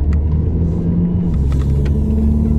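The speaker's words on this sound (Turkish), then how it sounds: "Aracımızda bir hızlanma yaparız." A 2003 Volkswagen Golf 1.6 Primeline accelerates, its engine a steady low rumble that rises slightly in pitch as it pulls, heard from inside the car with no talking.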